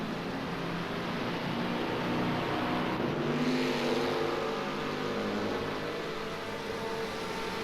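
Racing cars on a circuit, a small Ford Escort followed by a big V8 Mercedes, producing a steady continuous engine roar at a fairly even loudness with a slight swell midway.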